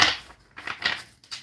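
Cards from a handmade astrology-themed deck are cut, giving a few quick, close papery riffling bursts with short pauses between them and no talk.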